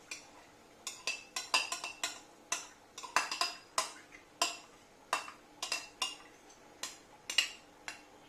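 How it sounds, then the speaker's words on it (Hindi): Soaked chana dal spooned into a pot for Sindhi sai bhaji, heard as a quick, fairly regular series of light metallic clinks and taps, close and crisp, with no talking over them. "भीगी हुई चने की दाल भी मैं डाल दूंगी इसमें।"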